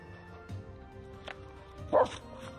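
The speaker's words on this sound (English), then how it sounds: "Yeah, it's a dog." A Finnish Spitz dog outdoors in the evening gives a few short, distant-sounding barks, with a louder yip near the end against a quiet background.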